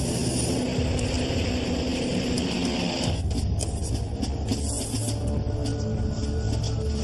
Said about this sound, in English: The plane lifts off, less than 3 minutes after it started to taxi.